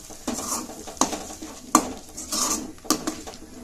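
Masala stirred with a metal spoon in a pan for soya chunk gravy, close clinks and scrapes against the pan in an uneven rhythm, about five sharp knocks among softer scraping, no talk.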